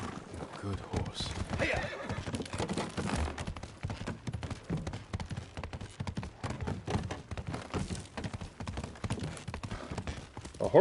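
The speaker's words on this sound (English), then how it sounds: "Good horse." A horse in the video game Ghost of Tsushima trots with steady clip-clop hoofbeats and lets out a whinny, set against a dense, busy game soundtrack.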